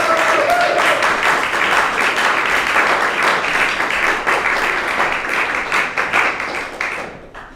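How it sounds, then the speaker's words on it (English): Steady loud applause from an audience at an awards ceremony, many hands clapping close and continuous before tapering off at the end. "Could you please give a big round of applause for Will?"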